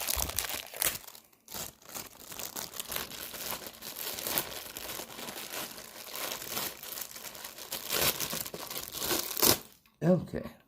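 Rustling, crinkling plastic bag as a Milwaukee M18 brushless impact driver is pulled out of it, with some tearing of tape, continuous and close throughout, ending in a couple of sharp crackles; a voice talks over it.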